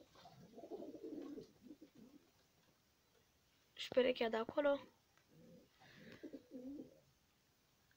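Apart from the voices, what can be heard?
pigeons cooing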